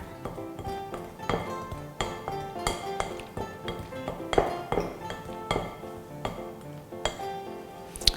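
A utensil stirring condensed cream into cookie batter in a bowl makes repeated sharp clinks and scrapes against the bowl, in an irregular rhythm, close and moderately loud, with no talk.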